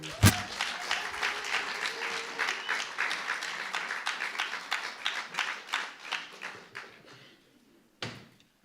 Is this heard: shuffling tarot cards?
no